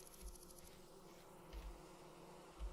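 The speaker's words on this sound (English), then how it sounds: "there's bees in this tree." Bees buzz around a tree in the survival game Vintage Story, a faint, wavering insect hum with soft low thumps.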